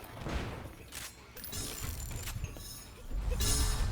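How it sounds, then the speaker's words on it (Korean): Bursts of video game gunfire crackle amid clattering mechanical noises, irregular and fairly loud, with a heavier rumble near the end. "총소리 좀 무섭다."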